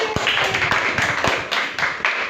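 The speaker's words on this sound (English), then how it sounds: "So clap it." Children clap after hearing a story, a short scattered round of light hand claps that stay close and fairly soft, with no talking over them.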